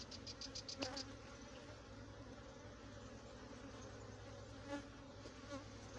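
Honey bees buzzing around an open hive in an apiary, a dense continuous drone of many wings close by with a few louder passes of single bees, no voices.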